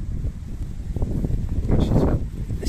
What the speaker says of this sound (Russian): Ветер прям мне в лицо бьет.